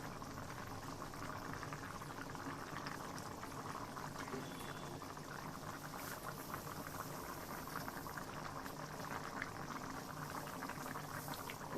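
Chicken curry gravy bubbling steadily in a pot as it simmers down to thicken, a continuous close boiling burble with no voices.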